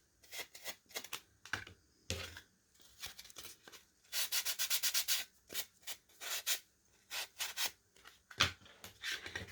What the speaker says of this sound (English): this right here tears up the sponges going across these edges